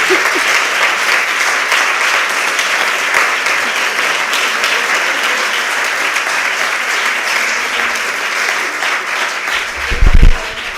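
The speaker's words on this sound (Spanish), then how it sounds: "es el aplauso más largo de la historia" Sustained, loud applause rolls from an audience at a lecture hall masterclass, dense and even for over ten seconds, with a brief low thump near the end.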